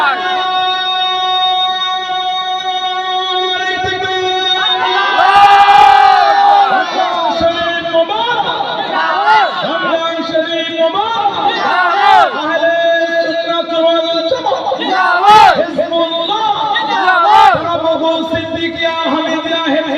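At a madrasa annual gathering, a crowd answers a call with loud takbir chants in repeated rhythmic bursts. A voice leads over a sustained, droning, musical background.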